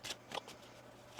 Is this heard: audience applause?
no